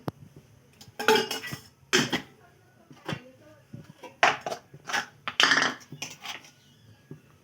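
A spoon clinks and clatters against a metal pot of water heating for pasta as a spoonful of oil goes in. Several sharp, close knocks come in uneven bursts with quiet gaps between.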